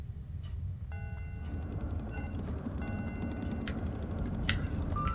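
Train whistle and chiming dings in the space game Astroneer, several tonal beeps sounding at a moderate level over a steady low rumble of the rolling train.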